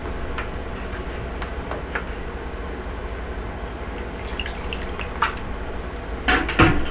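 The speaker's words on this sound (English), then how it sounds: "I'm going to add a half a cup of water." Half a cup of water poured into a kohlrabi microgreen tray, a steady wet trickle and splash running throughout at close range, with a few brief louder splashes near the end.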